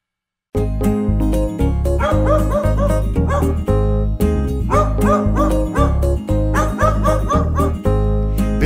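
Cartoonish dog barks repeat rhythmically on the beat of a bouncy Czech children's song about a farmer's dog, loud and continuous over the music's backing.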